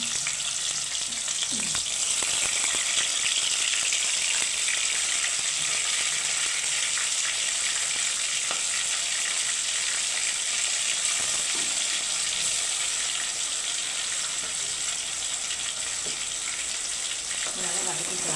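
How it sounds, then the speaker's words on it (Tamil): Onion paste fries in a pan for paneer gravy, giving a loud, continuous sizzling hiss close by with occasional scrapes of stirring throughout. "வெங்காயம் பச்சை வரப்போடு எடுத்து வதக்கிக்கலாம்"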